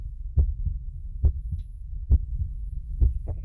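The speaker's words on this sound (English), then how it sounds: "It's a heartbeat." A heartbeat in a horror video game, steady low double thumps repeating about once a second, close and clear with no talking.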